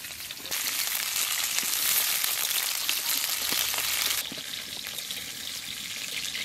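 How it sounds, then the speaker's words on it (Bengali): Potatoes fry in a pan, a steady loud sizzle that kicks in sharply, holds for a few seconds, then drops to a quieter hiss. "প্রথমে আলুগুলো ভেজে নেব"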